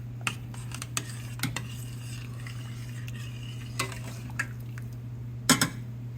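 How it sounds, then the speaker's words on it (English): Washed rice being stirred in a pot for vegetable rice, giving a few scattered scrapes and light clinks of a utensil against the pot over a steady low hum, quiet and close. "give this a nice little stir here"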